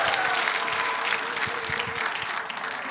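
Applause from a large crowd at a Korean political rally, steady and dense throughout as a new secretary general is welcomed to speak, with faint voices mixed in.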